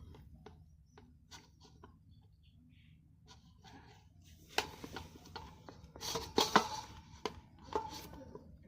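Block of paneer, 200 grams, sliced into pieces with a knife in a home kitchen, giving a run of soft, close knocks on the board that grow denser and louder toward the end.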